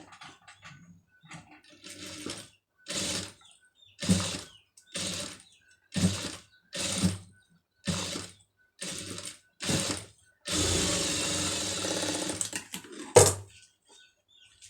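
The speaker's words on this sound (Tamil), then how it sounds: "இந்த கேப்பில் இன்னும் கொஞ்சம் தள்ளி வந்து தையல் போட்டுக்கிறோங்க" A sewing machine stitches a fabric border for a pom pom trim, running in about eight short, evenly spaced bursts before one longer sustained run and a final quick burst, close and clear with no talking.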